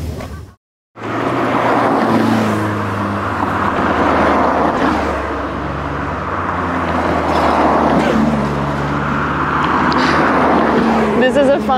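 A stream of Japanese car club cars drives past one after another on a road near Mt. Fuji, making a steady loud traffic rumble that swells and fades as each passes, with speech over it.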